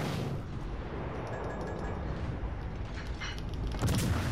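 Naval guns on a warship fire in World of Warships: Legends, a heavy rumbling roar with a louder boom near the end over constant engine and sea noise.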